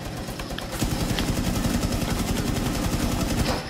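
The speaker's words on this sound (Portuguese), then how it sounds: "então tá vindo tiro" Rapid bursts of gunfire in the video game Rainbow Six Siege crackle continuously after a brief quiet start, loud and sustained like automatic weapon fire.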